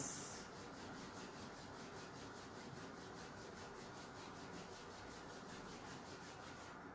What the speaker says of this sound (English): release the hands, rub the palms